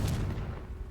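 A Confringo fire spell blast cast in the game Hogwarts Legacy: one loud, booming burst at the start that rumbles and slowly fades over the next second.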